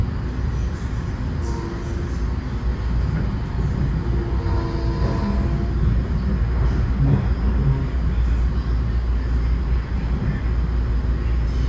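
Steady rumble and rattle from inside an LIRR M9 commuter train running between Grand Central and Ronkonkoma, with rising and falling wheel and track noise and occasional squeals, no talking.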